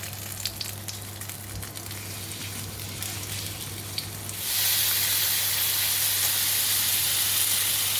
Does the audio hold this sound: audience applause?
no